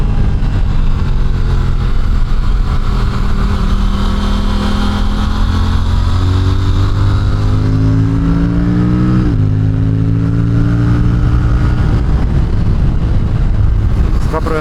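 An Aprilia RS457 motorcycle running on 100-octane fuel accelerates along a coastal road, its engine note climbing steadily through a gear, dropping at a shift, then rising again, loud and continuous with wind noise.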